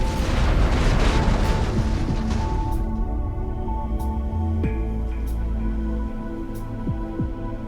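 Rhino tank artillery in the Halo Wars strategy game booms heavily in a loud rumbling barrage, then fades into a lower roar with a few sharper distant blasts and whistling shell sounds.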